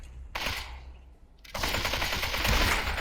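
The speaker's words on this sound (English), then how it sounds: "AK fight happening inside here" Bursts of AK rifle fire in a Population: ONE firefight, a short volley followed by sustained rapid automatic shooting that is loud, dense and continuous to the end.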